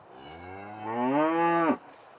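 A cow moos once on a floodplain meadow farm, a long, rising, tonal call that swells in volume and then breaks off abruptly, loud and close against a steady outdoor background.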